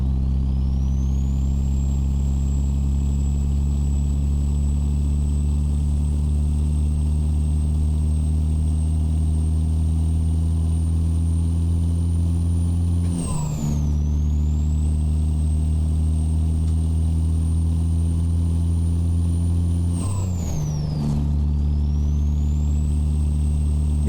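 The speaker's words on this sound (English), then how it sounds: "Yeah, this engine's really growing on me." Truck engine in American Truck Simulator pulling a heavy grain haul, a steady deep drone with strong low rumble and a high whine, briefly dipping twice as if shifting gears, continuous and close.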